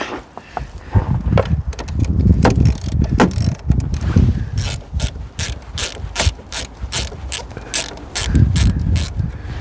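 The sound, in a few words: ratchet loosening the negative battery terminal of a 2018 Chevy Malibu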